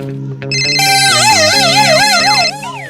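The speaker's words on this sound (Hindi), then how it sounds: "अरे यार काकर फोन आ जाते" A mobile phone ringtone plays loud and close, a bright electronic melody with a warbling, siren-like run of tones lasting about two seconds, with no talk over it.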